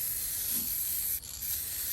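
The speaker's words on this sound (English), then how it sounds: "basically we're just going to spray it on" A steady hiss of clear sublimation glaze aerosol spraying onto a silver tumbler in a continuous stream, briefly dipping near the end, with no talking.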